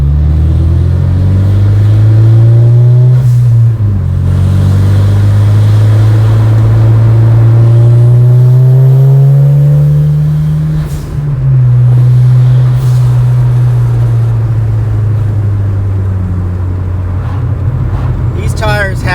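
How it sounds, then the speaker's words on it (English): A car fitted with Kenda KR20A tires driving on back roads with the windows down, a loud steady rush of wind buffeting over the low drone of engine and road noise, continuous and close throughout. "Excuse me in advance for the wind noise. I got the windows down."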